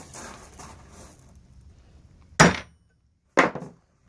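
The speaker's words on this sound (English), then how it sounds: "old school trick. It's called peening the spindle. Take your really good center punch right there." A center punch is hammered into a Mopar spindle to peen it, giving two sharp, loud metallic strikes about a second apart, each with a short ringing decay.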